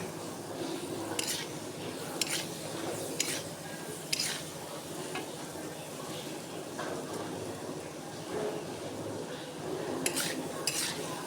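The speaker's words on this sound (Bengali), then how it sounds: "পেঁপেগুলো একটু আমি ভেজে নেব" Papaya pieces with turmeric fry in a pan, a steady low sizzle with regular spatula scrapes and clinks against the metal recurring every second or so.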